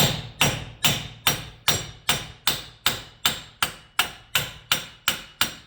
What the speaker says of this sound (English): Here, I just like to take a hammer.